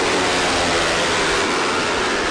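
Yamaha R3 twin-cylinder motorcycle engine at full race pace, a steady, dense broadband roar holding continuously with no break and no voices.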